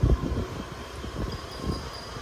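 A train rumbles past a railway crossing, a steady low roar with rattling wheel beats throughout and no voices.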